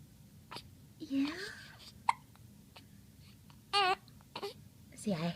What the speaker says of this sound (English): See, I hate hiccups.